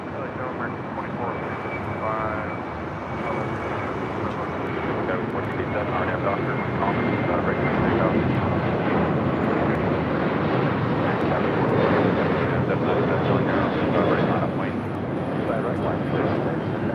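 Boeing 737-800 at LAX, departing for San Diego, a loud sustained jet engine roar with a high whine running steadily throughout, close by, with someone talking over it.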